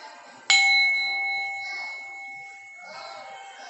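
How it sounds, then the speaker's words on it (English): A small prayer bell is struck once, ringing out with a clear sustained metallic tone that slowly decays, followed by soft rustling and faint background sounds. "I'm going to ding my little bow, my bell here, clear the energy"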